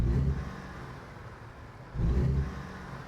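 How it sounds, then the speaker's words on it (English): A heavy truck engine in American Truck Simulator strains against its rev limiter at about 1600 RPM, a loud low rumbling drone that surges at the start, dips, then swells again near the end, with no one talking. "That thing's hitting the rev limit"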